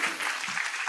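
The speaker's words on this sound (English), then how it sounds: "Please give applause again to our presenters today." Audience applause for presenters at a conference session, a short steady burst of clapping filling the room, with a faint voice murmuring underneath.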